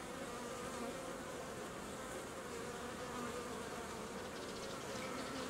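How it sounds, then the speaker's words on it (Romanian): Honey bees buzzing around a hive frame, a dense steady hum of many insects, faint and continuous, with no voices. "Aici vine albine cu polen."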